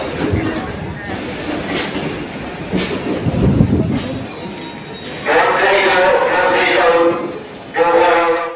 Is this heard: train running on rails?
yes